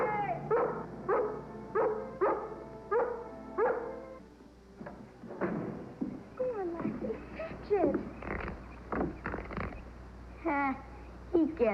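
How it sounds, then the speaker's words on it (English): A dog barks and yips repeatedly indoors on a 1994 TV tribute set, in a rhythmic series of sharp, loud barks that later mix with excited voices and commotion. "Get that dog out of here."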